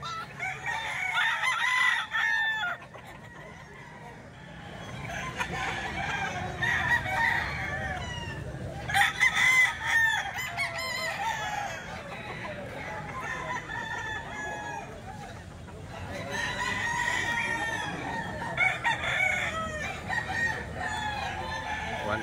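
Roosters and ball stags at a busy Filipino chicken market crow repeatedly and cluck, several birds near and farther off, with people talking in the background throughout.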